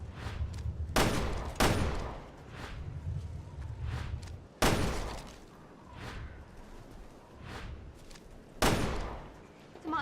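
Gunfire in the survival horror game Resident Evil: Revelations 2, several sharp, loud shots spaced a few seconds apart, each followed by a short ring-out over low rumbling ambience.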